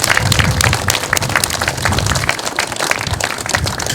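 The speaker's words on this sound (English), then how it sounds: "if we could give them a round of applause" Crowd applause at a Vietnam War 50th anniversary flag-raising ceremony in Douglas, Massachusetts, honoring veterans: dense, steady clapping from a gathered outdoor audience, sustained and fairly loud throughout.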